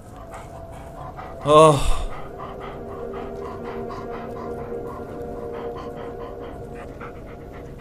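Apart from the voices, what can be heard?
dog panting in video game Blair Witch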